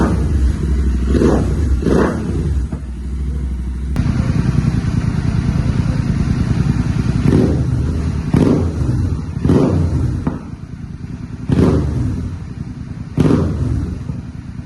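Royal Enfield Interceptor 650 twin with Red Rooster aftermarket exhausts and a K&N air filter, rumbling loudly and steadily at close range, with a series of sharp throttle blips and revs rising over the idle.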